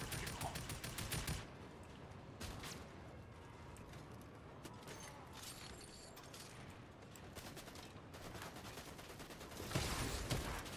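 Fortnite gunfire, with rapid bursts of automatic shots and single cracks spread across about eleven seconds, loudest at the start and the end, with no one talking.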